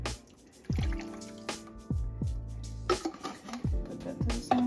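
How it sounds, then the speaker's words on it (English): Liquid sloshes and drips in a glass jar of pasta sauce topped up with water, a few wet knocks and gurgles close by with quiet kitchen room tone between them. "A cup of water in it, give it a good shake."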